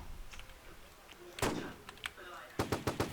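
Gunfire in a Roblox shooting game: a few scattered cracks, then a fast run of four or five close shots at the end. Someone talks excitedly between the shots.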